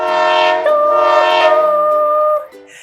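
A loud, sustained train horn blares for about two and a half seconds, a steady multi-tone chord that cuts off abruptly.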